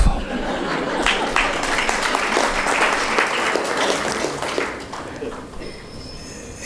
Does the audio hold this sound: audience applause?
yes